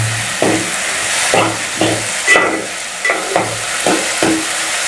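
Onions, potatoes and tomatoes frying in a pan for khichdi, stirred with a spatula in a steady run of close scraping strokes over a constant loud sizzle, no voices.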